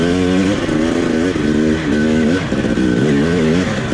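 A KTM 250XC TPI two-stroke dirt bike engine revs up and down in loud, close, buzzing waves with no pauses.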